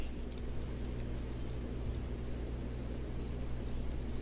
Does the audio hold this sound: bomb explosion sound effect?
no